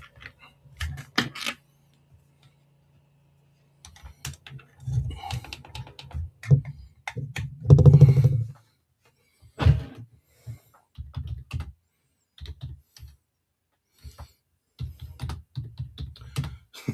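Someone types on a tiny computer keyboard, with quick close-up bursts of clicking keystrokes broken by short pauses and no talk.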